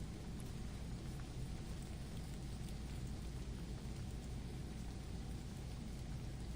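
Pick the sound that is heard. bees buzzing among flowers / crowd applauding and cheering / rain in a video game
rain in a video game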